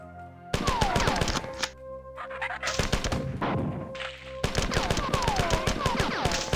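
A grenade launcher fires in the Mac video game Marathon. Dense bursts of rapid, sharp shots follow each other with brief pauses in between, over a steady electronic game hum.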